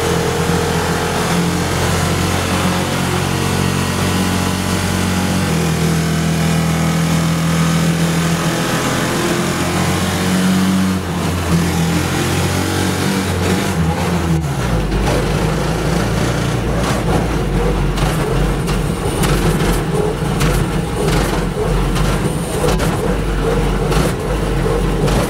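Ranger truck powered by a 6.5 HP Predator engine driving in second gear at around 30, with a loud, continuous drone that shifts in pitch partway through.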